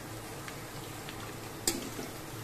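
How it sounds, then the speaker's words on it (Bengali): Garlic and onion frying in a pan while cooking red amaranth greens, a quiet steady sizzle with light stirring scrapes and one sharp utensil clink near the end. "রসুনের সঙ্গে পেঁয়াজ দিচ্ছি"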